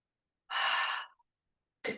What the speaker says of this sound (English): Inhale and exhale, in and out,